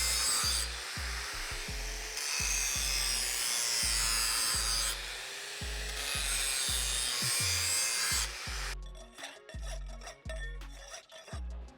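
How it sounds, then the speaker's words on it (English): A grinder works down a 1/8-inch bevel land, giving a steady abrasive rasp broken by short bursts and pauses, with repeated low thumps under it and a sharper, choppier stretch near the end. "So I'm gonna grind that down a little bit more and see how it turns out."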